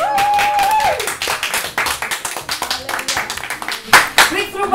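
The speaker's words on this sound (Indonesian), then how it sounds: "Tepuk tangan." An audience claps along through a talk show segment, a steady patter of hands with bursts of sharper claps, voices and music tones mixed in underneath.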